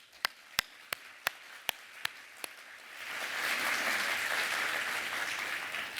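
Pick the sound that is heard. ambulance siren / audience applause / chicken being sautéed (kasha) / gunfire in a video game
audience applause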